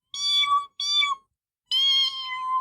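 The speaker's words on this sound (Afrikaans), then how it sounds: "Dit klink soos 'n kat wat in die lug miau." A cat meows three times from up on a windmill, each call a clear, drawn-out tonal cry, the last one longest, with short silent gaps between them and no other sound.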